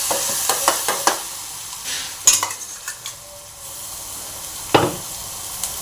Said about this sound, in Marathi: मसाला असा चांगला भाजून घ्यायचा आहे।